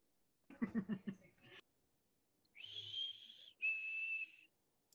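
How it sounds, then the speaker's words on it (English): A steady whistle rises and holds a high tone in two sustained blasts, each lasting about a second, following a short burst of a voice. "Whoever's whistling, stop it."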